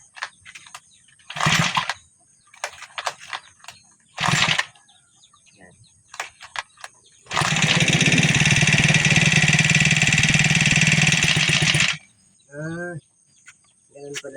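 A small grass cutter engine sputters in short bursts, then catches and runs loud and steady for several seconds before cutting off, with brief rustling around it.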